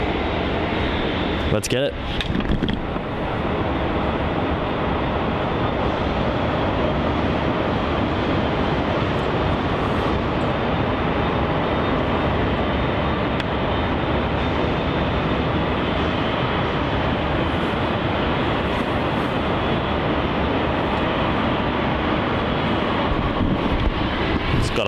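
A Boeing 787 departing Melbourne Airport for Delhi from runway 34 roars steadily and loudly as a broad, constant engine rumble across the whole stretch, with one brief spoken phrase near the start.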